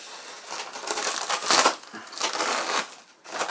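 Cardboard and plastic packaging around a 1983 Hoover S4254 Freedom Electronic 1000 vacuum cleaner being cut and ripped open, a close run of crinkling, tearing bursts with a sharper rip in the middle.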